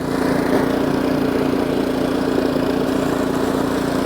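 An Ariens snowblower engine runs in gear with a steady, loud, close mechanical drone and a constant low hum that holds evenly throughout.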